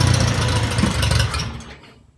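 A Farmall Cub tractor's old engine runs loud and steady for about a second and a half, then fades off as it dies out.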